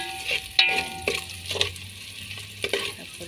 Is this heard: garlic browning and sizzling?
yes